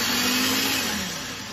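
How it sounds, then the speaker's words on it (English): An electric food grinder whirs steadily as it grinds pickles for a roast beef sandwich spread, loud and close, its motor pitch easing slightly near the end. "now I'm going to grind all of that as fine as I could"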